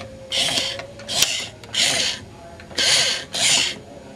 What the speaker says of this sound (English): This one here, the wire going into the mouth, opens and closes the mouth.